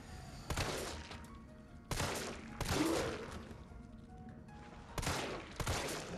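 Gunshots at an enemy in Resident Evil 3, several sharp, loud single reports spaced a second or more apart, each trailing off into a dull ringing decay, with no talk over them.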